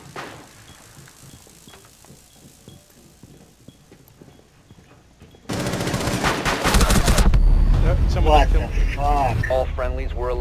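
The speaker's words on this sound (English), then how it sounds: "They're shooting into the B-bomb site." Gunfire in Rainbow Six Siege during a Hereford Base team deathmatch bomb round: faint scattered shots at first, then a sudden loud burst of rapid automatic fire that continues under game voices and radio chatter.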